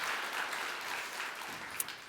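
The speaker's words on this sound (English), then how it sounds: "Big round of applause for Justin Fishkin." An audience claps for a speaker at a talk about future technology. The applause is brief, steady and somewhat distant, with faint voices mixed in and a single sharper clap near the end.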